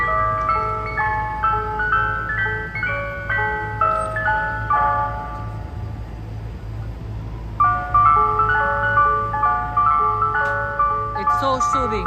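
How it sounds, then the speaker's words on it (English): Ice cream truck jingle playing on a New York City street in the evening, a repeating electronic chime melody over a steady low engine hum, pausing briefly mid-way before resuming, with city noise and a voice talking over it. "Oh, I love this ice cream truck sound."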